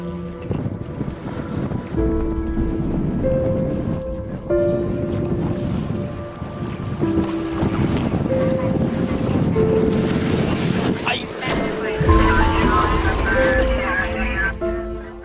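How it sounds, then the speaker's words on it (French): A sailboat at sea in force 6 wind and five-metre swells, with continuous wind roar, rushing water and wave crashes heard close and loud under talk and a tonal background. "Des creux de 5 mètres et un vent de force 6 le mènent à rude épreuve."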